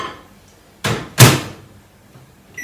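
A microwave door shuts with two quick, close clunks, the second louder, while eggs are being cooked, followed by quiet.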